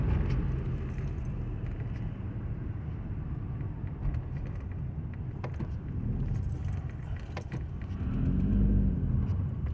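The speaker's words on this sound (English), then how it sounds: "I hate driving the freeway" Steady road rumble from a car cruising on a freeway, heard from inside the cabin, with a low engine swell near the end and faint rattles throughout; no one speaks.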